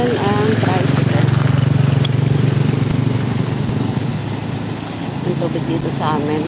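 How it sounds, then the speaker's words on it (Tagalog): A motorized tricycle passes close by on a rural village road beside an irrigation area, its small engine putting out a steady, loud, buzzing drone that eases off slightly as it goes by. "Padaanan muna natin ang tricycle."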